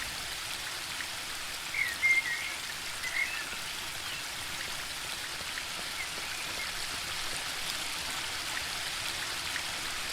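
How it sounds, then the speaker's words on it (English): Steady rushing water from a waterfall and spring brook in The Book of Unwritten Tales 2 video game, a soft continuous hiss at low volume with no voices. "The waterfall and I have been neighbours for so long that I don't really hear it anymore."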